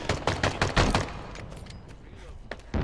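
Gunfire in Halo Infinite from a brute weapon like a rocket launcher: a few sharp, loud bursts early on, then a trailing decay and a fainter shot near the end, mixed with game sounds.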